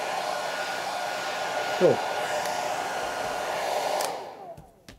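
A hair dryer blows steadily over a damp watercolor painting of birch trees, a loud constant whoosh that cuts off near the end. A voice speaks once briefly.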